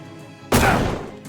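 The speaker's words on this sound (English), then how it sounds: "Toss this grenade to deal 15 damage right away." A single grenade goes off in Shadows Over Loathing, one loud sudden boom after near silence that rings out and decays over about half a second.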